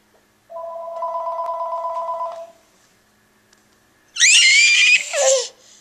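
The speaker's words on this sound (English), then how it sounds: "Answer the phone." A telephone rings with one steady electronic warble lasting about two seconds, followed after a pause by a loud, close burst of a young child's squealing laughter.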